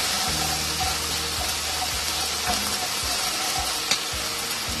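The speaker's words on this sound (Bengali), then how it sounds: "এবার দিয়ে দেবো টমেটো পেস্ট। একসঙ্গে ভেজে নেব।" Tomato paste frying with ginger paste in a pan for Bengali-style pointed gourd (potol) korma, a steady loud sizzle with stirring scrapes throughout and no voices.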